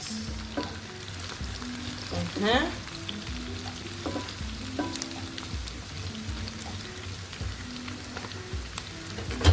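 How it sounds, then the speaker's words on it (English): Spicy garlic potatoes fry on low heat with a steady soft sizzle, dotted with occasional pops and a brief stirring scrape, heard close up throughout. "You cook it on low heat so that it cannot burn outside and not cook inside."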